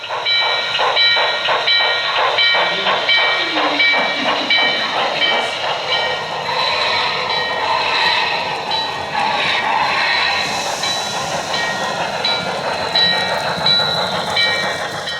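A model steam locomotive, N&W 611, chugs steadily with rhythmic puffing and hissing, rails clattering beneath, a continuous loud rumble that stays close throughout.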